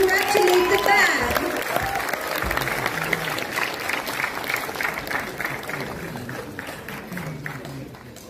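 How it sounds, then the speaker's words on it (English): An audience claps in a sustained round of applause congratulating a school band at a youth festival prize distribution ceremony in Kohima, loud at first and gradually tapering, with some crowd noise mixed in. "Can we have another big round of applause to congratulate the band?"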